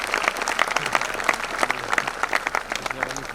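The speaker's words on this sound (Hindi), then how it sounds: "प्लीज जोरदार तालियों के साथ स्वागत कीजिए आनंद चौकसे सर का" A crowd at a hospital's Independence Day celebration gives a steady, dense round of applause to welcome a guest onto the stage, with a voice faintly audible under the clapping.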